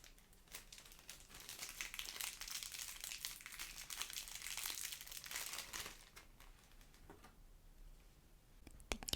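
Plastic wrapping crinkles steadily and closely as collector's edition trading card packs from a Wrath of the Lich King set are unwrapped, dense rustling for several seconds before it fades.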